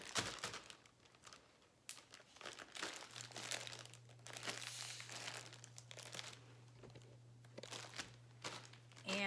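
Zipped plastic freezer bags being pressed flat to push the air out give close, continuous crinkling and crumpling of plastic, with a steady low hum running underneath throughout.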